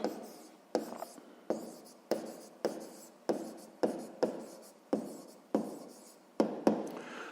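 Pen or pencil writing out a sixth-grade math solution by hand on paper, heard as a steady run of about a dozen short scratchy strokes, each starting sharply and trailing off, close and fairly quiet with no talk.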